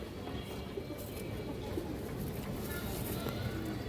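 Pigeons at a pigeon farm cooing softly in the background, low murmuring calls blending into steady ambient noise.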